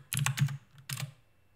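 A few quick keystrokes on a computer keyboard, close and distinct, with a short burst of clicks followed by two more taps after a brief pause.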